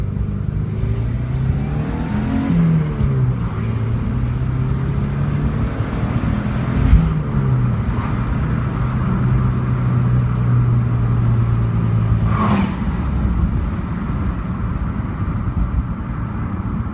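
A pickup truck engine revving and pulling hard through several accelerations, a loud close continuous roar with rising and falling pitch sweeps, no talk.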